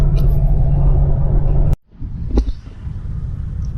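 A vehicle towing a Camaro rolls along a road with a loud, continuous low rumble, cut off abruptly partway through and resuming more quietly with a brief bump.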